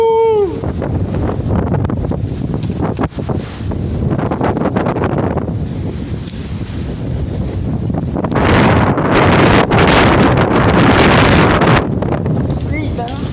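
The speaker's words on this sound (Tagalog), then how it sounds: "Lakas na hangin." Strong wind roars and buffets the microphone throughout, with gusts surging louder near the end and a brief voice underneath.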